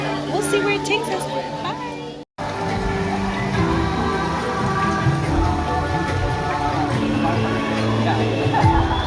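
Steady rain falls across an outdoor Disney theme park, Animal Kingdom or Hollywood Studios, a continuous dense patter on surfaces that runs the whole stretch with only a momentary dropout, while crowd voices and park noise mix underneath.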